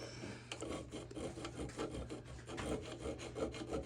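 Hand file rasps back and forth across the top of a custom knife, a steady rhythm of short scraping strokes, close and fairly quiet with no talking.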